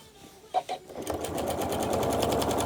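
After a few faint taps, a sewing machine starts quilting flannel and runs in a fast, steady mechanical rhythm close by, growing slightly louder as it settles in.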